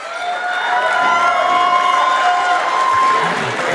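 A home crowd at a high school girls' basketball game in a gym cheers and applauds steadily, a loud sustained roar with whistles and shouts carrying over it.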